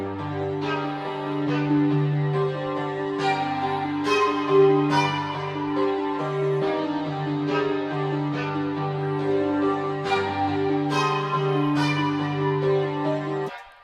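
Melodic synth stabs from the CMI preset Melodies, bright bell-like tones struck in a steady repeating pattern with sustained harmonic ringing, loud and continuous without talk.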